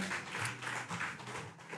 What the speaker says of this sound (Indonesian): Dapat ya tepuk tangan dong buat Mas Argun dong